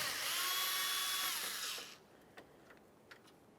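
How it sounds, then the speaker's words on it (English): A power driver whirs steadily while removing Phillips head screws from the front grille of a 1994–1997 Honda Accord. The motor winds down after about two seconds, followed by a few faint clicks from the loosened hardware. "We're going to remove the front grille by removing several Phillips head screws across the top."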